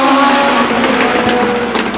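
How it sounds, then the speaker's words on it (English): Legends race cars powered by Yamaha engines roar around Stockton 99 Speedway at the start of a race, a loud, dense, continuous engine whine with cars running close together. "Listen to those Yamahas sing."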